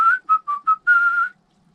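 A person whistles a short tune: four quick clear notes followed by one longer held note, close and alone.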